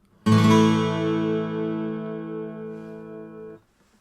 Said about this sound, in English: A major sounds like this.